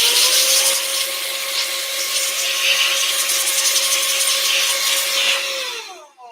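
Compressed air blows out the fan of a Glowforge laser cutter in a loud, steady rushing hiss with a constant tonal whine, then cuts off abruptly near the end.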